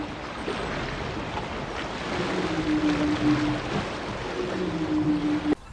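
Whale calls drift through steady ocean surf and wind, a pair of long, low moaning tones rising and falling over several seconds, faint and distant beneath the washing water.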